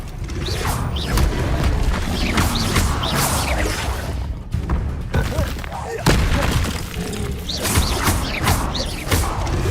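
Confringo blast spells going off in Hogwarts Legacy, with repeated booming impacts and crashing debris amid a busy, mechanical combat soundscape, loud and close throughout, while a voice shouts spell names over the action.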